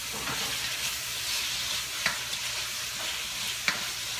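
Steady sizzling of a stir-fry in a hot pan, with occasional sharp scrapes and clinks of a utensil against the metal, continuous and close with no talking.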